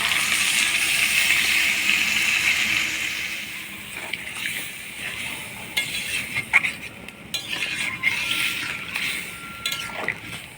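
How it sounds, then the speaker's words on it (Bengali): Water poured into a pan of sizzling chicken curry, a steady broad splashing hiss at first that settles into softer bubbling with scattered clinks and stirring knocks. "এবার অল্প জল দিয়ে দিব।"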